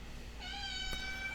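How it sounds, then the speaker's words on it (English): Sophie, a pet cat, gives a single drawn-out meow at moderate distance, faint against a quiet room with low background hum. "that's my cat Sophie meowing in the background"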